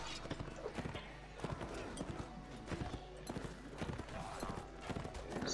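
Horse hooves clip-clop in steady, rapid rhythm from a mounted rider in a Rohan-themed medieval battle game, close and fairly loud throughout, with a faint whinny and someone talking over the action.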